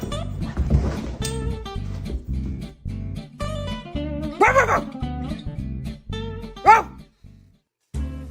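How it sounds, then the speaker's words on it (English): Dog barks and yips in short bursts, a few sharper higher yelps among them, close by and fairly loud with brief pauses between, ending in silence. "Bark at your dog and see their reaction."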